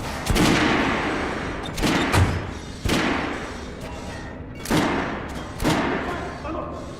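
Bursts of Kalash rifle fire in Metro Last Light Redux, several loud, close volleys separated by short gaps, each with a sharp attack and a decaying boom, with some voices between the shots.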